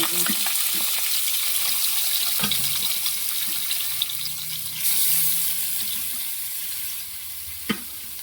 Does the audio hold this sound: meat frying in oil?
yes